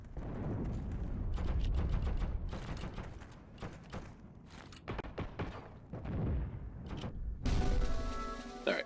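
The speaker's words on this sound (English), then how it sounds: "there's a bolt-action rifle I hear" Gunfire from a Heroes & Generals infantry battle, including bolt-action rifle shots, rings out as a dense run of sharp cracks and thuds, some close and some farther off, mixed with other battle noise.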